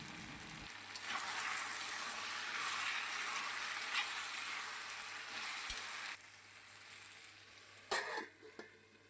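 Raw cleaned prawns hitting a hot pan of okra set off a loud, steady sizzle that holds for several seconds, with a few sharper crackles and scrapes near the end.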